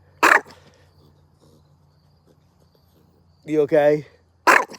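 A livestock guardian dog at an animal sanctuary gives two sharp, loud barks, one at the start and one near the end, with a quiet stretch between and a person speaking briefly just before the second bark.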